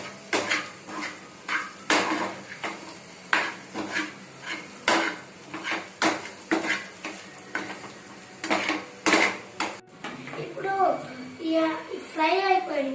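A spoon clinks and scrapes repeatedly in a pan as fried boiled eggs are mixed with chili powder, in steady rhythmic strokes, close and fairly loud; a voice speaks near the end.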